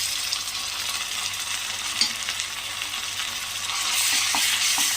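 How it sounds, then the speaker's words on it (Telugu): Ginger garlic paste frying in a pan while being stirred, heard as a continuous hissing sizzle with occasional soft scrapes of the spoon, close and moderately loud, the sizzle swelling toward the end. "ఇది కూడా చక్కగా అల్లం వెల్లుల్లి పేస్ట్ కూడా మంచి స్మెల్ వచ్చేంత వరకు ఫ్రై చేసుకుందాము."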